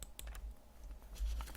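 Several computer keyboard keys are tapped in a quick, irregular run, with one key press landing a little more heavily. The clicks are quiet and close.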